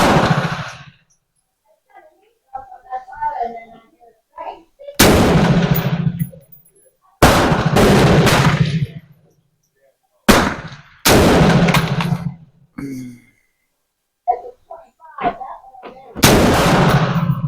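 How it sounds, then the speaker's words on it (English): M4 rifle firing while a Crimson Trace green laser is sighted in, several sharp, loud shots spaced a few seconds apart with quiet gaps and some faint talk between them. "3 shots, and they are low."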